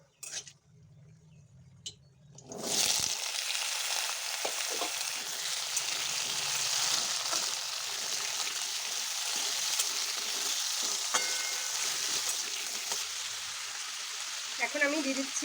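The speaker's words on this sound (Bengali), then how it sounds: "এখন এটার মধ্যে আলুগুলো ছেড়ে দেব।" Potatoes hit hot oil seasoned with whole garam masala, dried red chillies and bay leaves, bursting into a loud, steady sizzle after a quiet start with a few clinks, frying on continuously close by.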